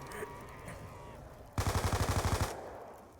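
Video game shooter gunfire: a rapid burst of about a dozen evenly spaced automatic shots, loud and close, following a stretch of quieter background game noise, then cutting off into near silence.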